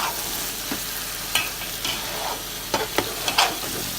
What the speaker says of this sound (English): to give it a nice and gentle stir.